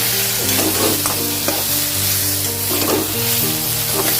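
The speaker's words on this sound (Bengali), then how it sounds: "খুব ভালো করে জিনিসগুলো ফ্রাই করে নিয়েছি" Ingredients fry in a hot pan with ginger paste for a dish of bottle gourd greens, lentil dumplings and fish, giving a steady, close sizzle with occasional stirring scrapes and no voices.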